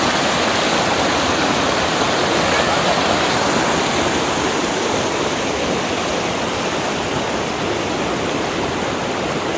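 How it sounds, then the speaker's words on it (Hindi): A stream in Murree rushes steadily and loudly throughout, its broadband water noise continuous with no pauses and no clear voices above it. "पानी जा रहा है, पानी"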